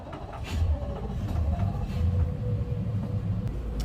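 Yamaha 425 XTO outboard boat engines start up and settle into a loud, low rumbling idle close by, a continuous deep drone with a faint steady whine above it.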